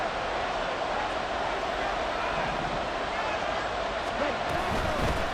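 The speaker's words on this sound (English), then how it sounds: "The crowd getting into it as we come up on a big third down." Stadium crowd noise in the Madden NFL 24 football video game, a steady, dense roar of fans swelling gently ahead of a big third down, continuous and broad throughout with no clear individual voices standing out.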